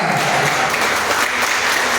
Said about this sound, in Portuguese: Agora eu convido a igreja a dar a mais forte salva de palmas ao Senhor Jesus.